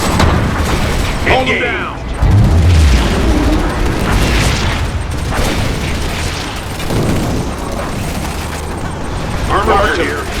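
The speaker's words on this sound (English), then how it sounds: "Stand by for bombing run." Bombing run explosions in Command & Conquer 3: Kane's Wrath, deep rumbling booms and bursts rolling under a dense battle soundscape, with unit voices speaking over them.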